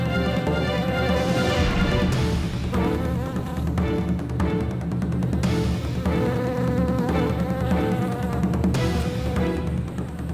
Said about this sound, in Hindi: कंचन, मधुमक्खियों का झुंड हमारे माथे के ऊपर है।